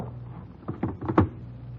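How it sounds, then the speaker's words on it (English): An icebox door is pulled open in an old radio drama scene, giving a few close clunks and a latch rattle in quick succession over a quiet room. "Open the icebox."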